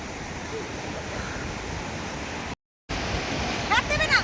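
Ocean surf washes onto a beach at Puri as a steady, broad roar that breaks off for a moment. Faint voices and high chirps come in near the end.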